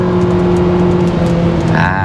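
A car with a CVT gearbox accelerates steadily at speed on a test drive, a loud droning engine tone holding level under road and wind roar, with a rising whine near the end.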